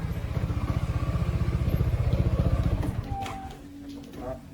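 A motorcycle engine idles close by with a steady rapid chugging pulse while the bike is brought indoors, then the engine note fades and a few clatters and faint movement noises follow.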